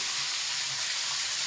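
Long beans (borboti) coated in turmeric dropped into hot oil on a high flame, giving a loud, dense, continuous sizzle and spitting hiss.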